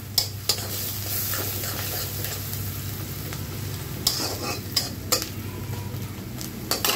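Onions fry in oil with a pinch of salt in a pan and are stirred, for a chicken giblet and bottle gourd dish. A continuous close sizzle is punctuated by sharp clicks of the spatula.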